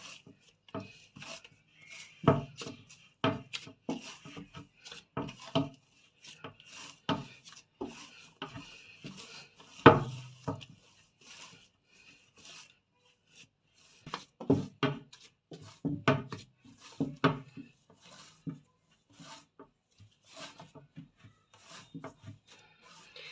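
Bread dough kneaded by hand for flatbread, close-up: irregular soft slapping, pressing and rubbing strokes, some sharp thumps, in uneven bursts with short pauses, no talk.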